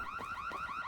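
A store alarm in the Bloodhunt battle royale game, a loud continuous electronic warble rising and falling in rapid regular cycles, with no voices over it.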